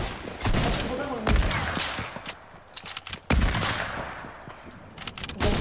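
Rapid bursts of shotgun fire in a video game, loud and close, several sharp blasts in quick succession with a player's voice talking over the shooting.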